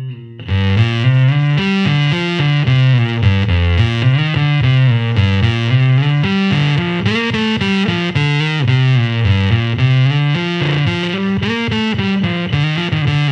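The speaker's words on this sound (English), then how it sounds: "it's a very square wave sounding fuzz" A square-wave-sounding fuzz guitar pedal in mode A plays loud, dense, buzzy guitar phrases alone, with continuous riffing and shifting notes and no gaps throughout.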